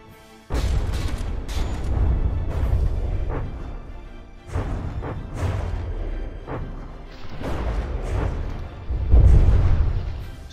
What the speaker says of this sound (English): That is just an absolute hail of gunfire.